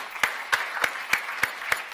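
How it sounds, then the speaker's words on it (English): Applause at a college board of trustees meeting, heard as sparse, evenly spaced claps about every 0.3 seconds over a steady room murmur, moderately close and fairly light. "since I received a round of applause"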